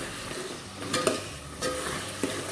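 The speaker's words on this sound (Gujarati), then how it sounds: "વઘારી નાખ્યું છે ખાવાનું ગાજર ને વટાણા બંને" Carrots and peas tempered in a hot pan give a steady, moderate sizzle with occasional scraping stirs and small clinks of a spoon, no voices present.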